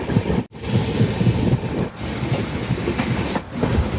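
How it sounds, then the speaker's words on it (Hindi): Kota Patna Express passenger train running at speed, heard from on board as a loud continuous rumble with rhythmic rattling and wind buffeting, briefly dipping a couple of times. "तो देखिए ट्रेन काफ़ी रफ्तार में चल रही है"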